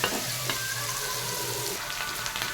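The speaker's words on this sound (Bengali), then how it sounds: "ফ্রাইড রাইসের জন্য সবার আগে গাজরটাকে ভেজে নিলাম" Carrots frying in a pan as the first step of fried rice, a dense, even sizzle with a few stirring clicks, loud and close, without voices.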